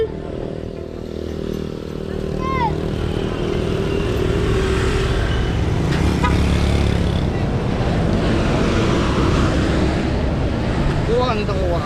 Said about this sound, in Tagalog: Sasakay na tayo ng ano, ng tricycle.